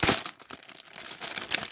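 Plastic wrapper on a mega multipack of Topps Match Attax Champions League 18/19 football cards being torn open by hand, close crinkling and ripping in quick uneven bursts with no voice.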